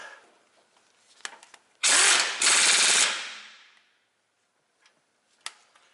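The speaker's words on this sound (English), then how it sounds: "21mm wrench on this side, 18mm socket on the gun." Impact gun with an 18mm socket on a 2004 Ford Explorer 4X4 rear strut bolt, two loud close hammering bursts of about a second and a half in total, tailing off, amid scattered metallic clicks and handling noises.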